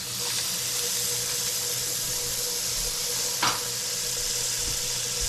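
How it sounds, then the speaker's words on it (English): Butter sizzling in a hot pan before salmon is cooked, a steady close frying hiss running throughout with a brief sharper crackle midway. "So I'm gonna add some butter to the pan."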